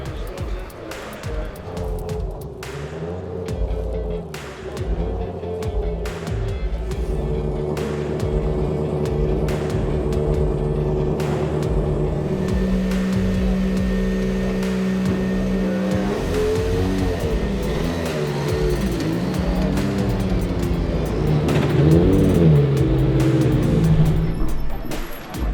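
BTCC touring race cars out on track, engines droning and revving loudly and continuously as the cars accelerate and run past close by, with tyres squealing briefly.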